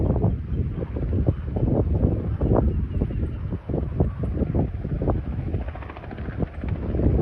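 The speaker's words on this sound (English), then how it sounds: "There's a helicopter coming in." A steady helicopter drone with rhythmic rotor thumping, blended with wind buffeting the microphone; the beat stays fairly constant and moderately loud throughout as the helicopter comes in at Myrtle Beach, South Carolina.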